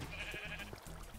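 A Minecraft sheep gives a brief bleat over a low, steady background hum, fairly quiet and alone without talk.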